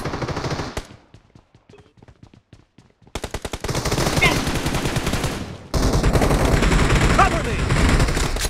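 Rapid gunfire in the shooter game PUBG Mobile during an arena match, first sparse sharp shots, then dense continuous bursts that stay loud and close throughout.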